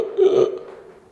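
A single short hiccup-like vocal spasm from a person weak after a long water fast, a brief voiced jolt followed by a fading tail, close and fairly loud.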